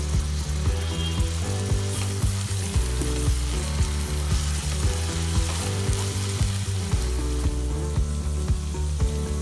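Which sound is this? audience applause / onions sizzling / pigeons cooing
onions sizzling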